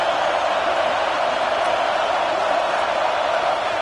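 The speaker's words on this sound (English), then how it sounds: "listen to this crowd noise. This stadium is vibrating." A stadium crowd in the NCAA 26 college football video game makes a steady, loud, dense roar of cheering that never lets up and is heard alone.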